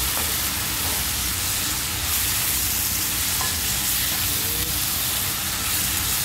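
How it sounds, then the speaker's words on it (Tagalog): Chicken breast sizzling and frying in a pan for condol, a steady loud hiss and crackle as the pieces are stirred, with no voices over it. "lagyan natin yung chicken para mahalo-halo pa natin"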